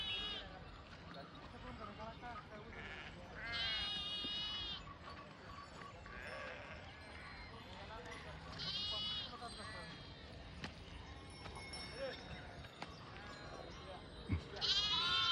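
Sheep bleat in repeated wavering calls over a busy background of people talking at a Balumama palkhi pilgrimage gathering in Malegaon, Bhor, Pune, with the bleats rising clearly at intervals.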